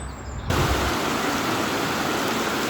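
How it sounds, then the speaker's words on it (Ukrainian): Waterfall on the river Lahn near Marburg, a steady broadband rush of falling water that swells in abruptly after a quiet start and then holds loud and constant, with no voices. "Водоспад."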